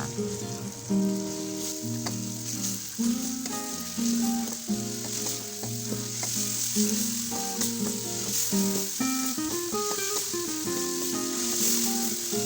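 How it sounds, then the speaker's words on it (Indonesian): Shrimp-paste chili sambal with stink beans frying in hot oil, a steady close sizzle running the whole time under a loud music bed. "Panaskan minyak, lalu masukkan kembali sambal beserta petenya."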